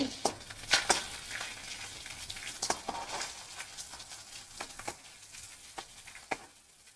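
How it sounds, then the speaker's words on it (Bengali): Crab frying in a pan until it turns red, with a soft, steady sizzle and scattered sharp pops and crackles at low volume and no voices. "আমি কাঁকড়াটা ভেজে নিই। এই দেখুন লাল লাল করে ভাজা হয়ে যাচ্ছে।"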